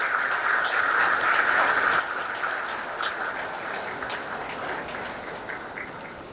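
Sustained applause from a sizable crowd, steady and loud, easing slightly toward the end.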